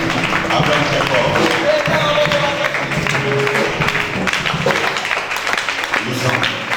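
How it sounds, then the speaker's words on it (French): A church congregation applauds and cheers in worship, a dense, steady wash of clapping mixed with loud crowd voices and singing, filling the room without pause. "Acclame très fort pour le roi des rois."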